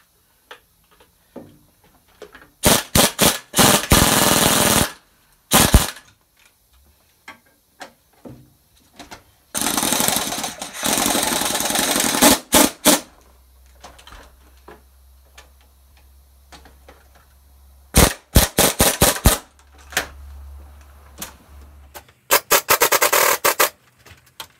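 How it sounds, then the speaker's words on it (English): An impact wrench tightens a strut nut during a vehicle coil spring transfer. It fires in several loud, sharp hammering bursts of a few seconds each, separated by quiet gaps with faint handling clatter. "the impact kind of has a way to go faster and stronger than a regular ratchet"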